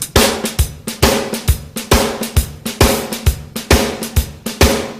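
A drum kit playing a shuffle groove with accented left-hand triplets, with steady bass drum thumps and snare and cymbal hits repeating in a swung rhythm, loud and close, without talking.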